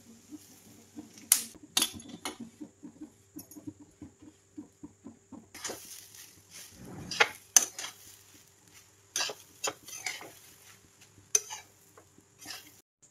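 Grated fresh coconut is roasted in a pan, heard as intermittent scraping and clinking of a spatula against the metal in irregular bursts, close and fairly quiet.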